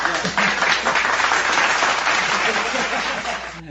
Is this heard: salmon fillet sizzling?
no